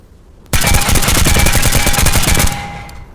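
A sustained burst of full-auto UZI submachine gun fire from the Tactical Assault VR video game, rapid evenly spaced shots running loud and close for about two seconds before tailing off.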